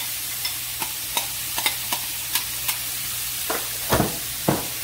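Broccoli sizzles and crackles in a hot pan with scattered pops and stirring clatter, growing briefly louder near the end as the microwaved broccoli hits the pan and its liquid deglazes it.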